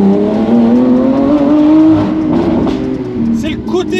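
Lamborghini Aventador SVJ Roadster with a full exhaust system, its engine droning loud and close as it revs up with a rising, rasping tone, then eases off into crackles and pops near the end.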